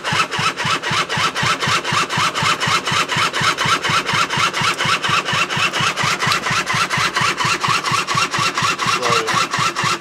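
A two-stroke dirt bike engine cranks over and over in a fast, even rhythm, a repeated starter churn that never catches, loud and close for about ten seconds.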